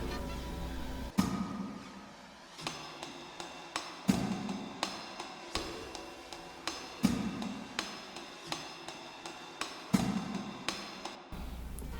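Minimal jazzy sample loop with sharp percussive hits every few seconds over a busy textured bed, a repeating steady pattern at moderate level with no voices.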